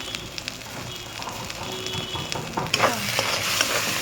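Green pea kachori filling stir-fried in a pan to dry it, a continuous close sizzle with scattered spatula scrapes and clicks that builds slightly in loudness.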